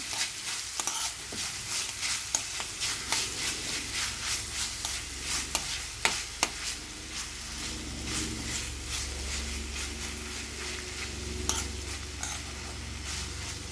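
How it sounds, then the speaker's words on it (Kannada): Grated raw mango sizzles steadily while frying in a pan for mango chitranna, with repeated sharp scrapes and clicks of stirring over a broad, constant hiss, close and moderately loud, with no talking. "ಇವಾಗ ಮಾವಿನ ಮಾವಿನಕಾಯಿ ತುರಿದಿರೋದು ಹಾಕೊಳ್ತಾ ಇದ್ದೀನಿ ಇದೆಲ್ಲ ಚೆನ್ನಾಗಿ ಇದಾಗೋ ಥರ ಫ್ರೀ ಫ್ರೈ ಆಗೋ ಥರ ಮಾಡ್ಕೊಳ್ಳೋಣ"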